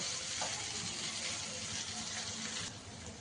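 Mutton keema ghugni sizzles and bubbles steadily in plenty of released oil as it is stirred, a dense, continuous frying crackle heard up close with no talking.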